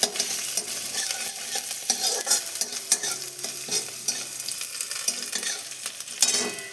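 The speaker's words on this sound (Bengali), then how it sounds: "রসুনটাও আমি ভালো করে ভেজে নেব একটু।" Garlic frying in a hot pan for Manchurian, a loud, dense sizzle and crackle throughout, broken by repeated clattering stirs and scrapes of a spatula close by.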